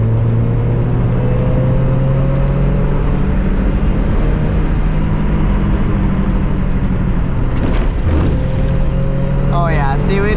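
A Mazda Miata drives flat out on a canyon road, its engine droning loudly and steadily from inside the car with shifting pitch, and a voice talks over the noise.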